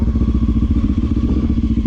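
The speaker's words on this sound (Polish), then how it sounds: "Ale ten wydech fajnie gada," A Honda CB motorcycle engine idles through its exhaust, a loud, close, steady rhythmic thumping burble with even pulses throughout and no speech.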